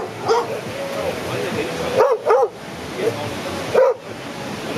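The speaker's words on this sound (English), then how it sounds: "Look at the black dog." A black dog barks in a few short yips and woofs at close range, with a pair of quick barks in the middle and another near the end, over steady outdoor background noise.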